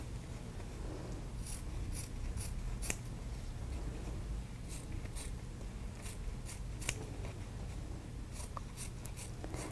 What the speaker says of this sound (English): Use nice sharp scissors